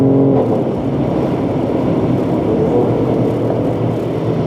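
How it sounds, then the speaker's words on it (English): Engine and exhaust of a 2017 Mercedes-Benz GLE 450 AMG SUV accelerating on a test drive, a steady loud rumbling drone with faint crackle under it, no talking. "Nice crackles from the exhaust."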